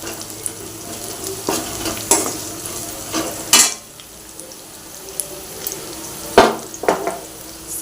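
Sambar masala cooks in a pan with a pinch of salt, frying steadily under repeated stirring, with spoon scrapes and clinks against the pan and a few sharper knocks standing out over the constant sizzle.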